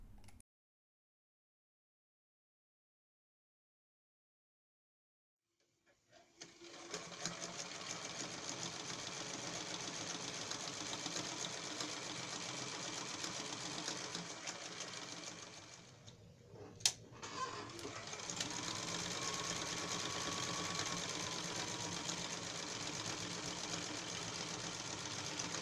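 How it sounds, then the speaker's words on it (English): A sewing machine stitches the lining of a handbag, a steady close mechanical whirr that starts after a silent pause, stops briefly with a click, then resumes. "I'm sewing the lining,"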